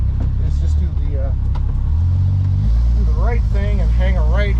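A 1965 AMC Rambler American 440 that runs poorly idles and rumbles from inside the cabin, a loud steady low engine drone that rises slightly midway, while someone talks over it.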